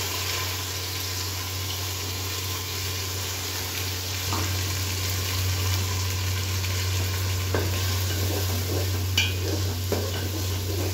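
Ginger paste sautéing in a pan, a steady close sizzle over a constant low hum, with occasional scrapes and knocks of a spoon stirring through it.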